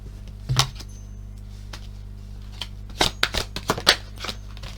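Tarot cards shuffled by hand in a few short, crisp rustling bursts, one early and a quicker cluster near the end, quiet and close with no talking.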